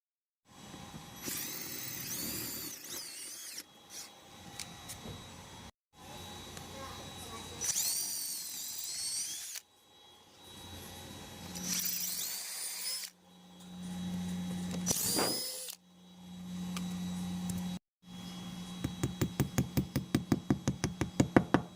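Electric drill boring deeper anchor holes into an outdoor wall for a wall-mounted garden hose reel, several separate whining bursts of a few seconds each with pauses between, ending in a rattling pulsed stretch.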